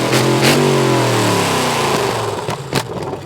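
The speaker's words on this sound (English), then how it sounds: "Oh, it's even got the crackle on the overrun." A V8-swapped Silvia built as a Mad Max Fury Road promotion car revs loudly then lifts off, its falling engine note followed by sharp crackles and pops on the overrun, close and unaccompanied by speech.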